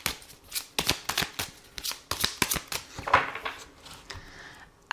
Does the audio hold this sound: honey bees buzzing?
no